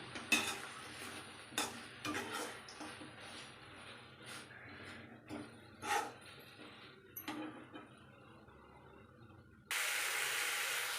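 Tomato, ginger and garlic being stirred and fried in a pan: a spoon scrapes and clinks against the metal in irregular strokes, then a loud, steady sizzle takes over near the end.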